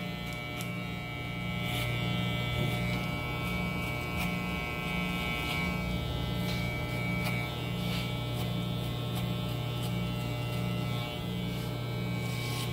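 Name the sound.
electric hair clipper with number 2 guard cutting hair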